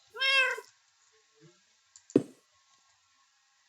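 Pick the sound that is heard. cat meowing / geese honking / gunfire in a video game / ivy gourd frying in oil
cat meowing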